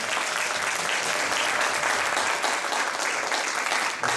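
Audience at a school admissions briefing bursts into steady, full applause, dense clapping from many hands that holds throughout.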